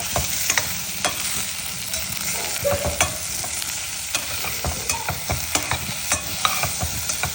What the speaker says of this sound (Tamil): தக்காளி நல்லா மெதுவாக நல்லா மசிகிற வரைக்கும் கிண்டிக்கலாம்